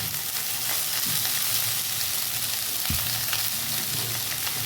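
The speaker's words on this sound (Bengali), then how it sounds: "বেশি হিট দিয়ে ভাজবেন না বন্ধুরা জাস্ট অল্প আছে এটা ভাজতে থাকবেন আপনারা" Sago pearls frying in a pan over low heat, a continuous close sizzle with occasional stirring scrapes and a single sharp clack of the spatula partway through.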